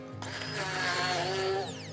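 A blender grinds Cheongyang chili peppers, onion, pear, garlic and ginger into a seasoning paste for kkakdugi radish kimchi, its motor whining up sharply, holding at a steady high drone, then winding down near the end.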